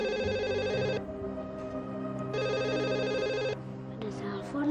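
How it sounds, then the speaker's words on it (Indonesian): A home telephone rings in two electronic bursts with a pause between, while background music plays beneath and a brief sound follows at the end. "Ada telepon"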